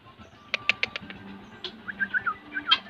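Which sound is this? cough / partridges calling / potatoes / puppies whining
partridges calling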